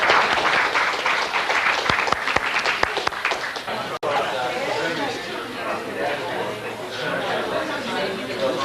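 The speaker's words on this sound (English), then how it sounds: "oh my goodness, you are applauding me" Audience at a seminar applauds loudly and steadily for several seconds, the clapping dense and close, with chatter and a voice speaking over it as it continues.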